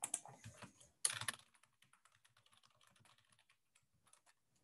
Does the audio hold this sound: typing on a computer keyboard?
yes